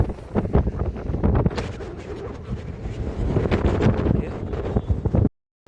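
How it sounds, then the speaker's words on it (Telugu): Strong wind buffeting a microphone on a bridge over the Srisailam dam, loud gusty roaring that rises and falls for several seconds before cutting off abruptly. "ఇంత గాలి వీస్తుంది, మీరే చూడండి"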